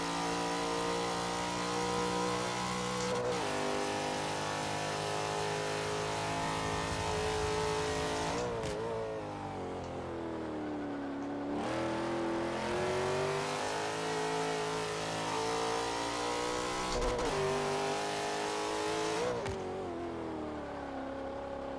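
Car engine in a racing video game on a community tune, revving steadily with smooth rising and falling pitch through several gear shifts, loud and continuous with no talk.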